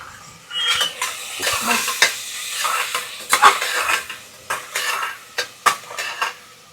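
Tomatoes and green chillies are sautéed and stirred in a pan, with repeated loud scrapes and clinks of a spoon against metal over a soft sizzle, close up and with no talking.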